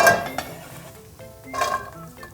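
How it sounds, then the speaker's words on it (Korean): Chopped onions clatter into a metal pot, with a couple of short clinks and scrapes close by. "양파를 썰어주시고 그냥 썰은 김에 냄비에다 넣어줄게요."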